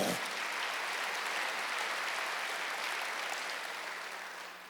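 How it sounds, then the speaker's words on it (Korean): A church congregation clapping during a Wednesday worship service, a dense burst of applause that starts abruptly and holds steady before easing slightly at the end. "성경에 본 사람만 박수세요."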